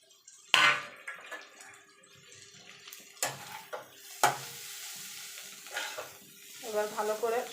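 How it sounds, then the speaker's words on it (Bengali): Chowmein noodles and fried vegetables are tossed and mixed in a pan for egg chowmein, with irregular scrapes, clanks and soft sizzling bursts, fairly close and without talk. "এবার ভালো করে সবজির সঙ্গে চাউমিনটাকে মিশিয়ে নেব।"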